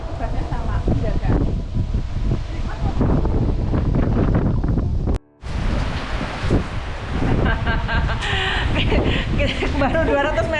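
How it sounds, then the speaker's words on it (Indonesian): Strong gusting wind and rain batter the microphone on a hillside climb, a loud continuous roar with a brief dropout partway through, while people talk over it. "Baru 200 meter sudah disambut angin puting beliung dan hujan."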